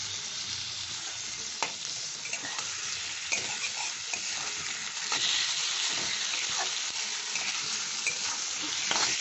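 Prawns stir-fried with vegetables in a pan for a chingri chachchari give a steady close sizzle, broken by repeated scraping strokes and clicks of a spatula as it tosses everything. No one speaks.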